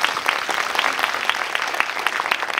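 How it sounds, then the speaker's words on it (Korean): An audience applauds at a film talk event, producing a steady, dense patter of many hands clapping throughout, moderately close. "박수 한번"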